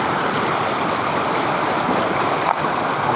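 Tago Falls waterfall pouring over large boulders, a steady, dense roar of rushing water that stays constant and close throughout with no voices.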